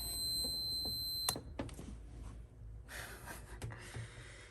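A continuity tester's buzzer sounds across two shorted switch wires on a 2011 Toyota Tundra, giving a steady high electronic tone for about a second before cutting off, followed by clicks and handling noises.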